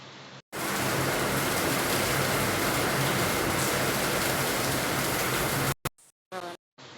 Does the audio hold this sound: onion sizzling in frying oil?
no